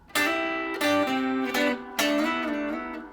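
A clean electric guitar plays a short riff of sliding two-note double stops on the 3rd and 4th strings, a few ringing strums with brief gaps between them, close and clear.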